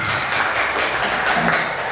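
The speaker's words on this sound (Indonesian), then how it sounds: "Tepuk tangan buat Pak Anwar." An audience of teachers at a school gathering applauds, a continuous close mass of clapping that stays steady and fairly loud for the whole stretch.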